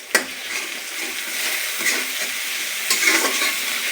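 Onion-garlic paste and spices sizzle in a hot pan as they are stirred, giving a continuous hiss with a few soft scraping strokes, close and alone without speech.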